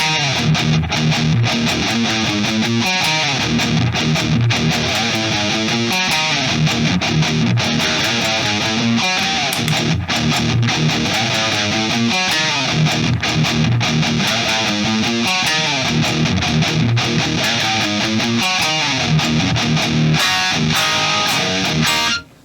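An electric guitar tone, heavily distorted with scooped mids and thickened by a doubler effect. Loud chugging riffs and pinch-harmonic squeals play continuously for over twenty seconds, with no voices.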